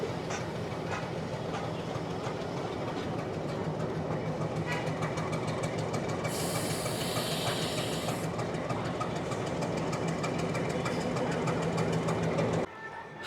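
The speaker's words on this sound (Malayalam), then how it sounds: "നമ്മൾ ആവി എഞ്ചിൻ ഇത് അപ്പുറത്തൂടെ പോയിക്കൊണ്ടിരിക്കുന്നു" A Nilgiri Mountain Railway steam engine moving past, giving a steady mechanical rumble with rapid rhythmic chuffing and clanking that grows slightly louder, plus a brief hiss of steam partway through.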